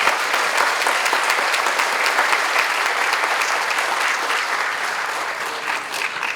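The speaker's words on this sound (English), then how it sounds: "Let's please give one more round of applause for all the recipients." An audience at a school recognition day ceremony gives award recipients a sustained round of applause, dense, even clapping filling the hall throughout and tapering slightly toward the end.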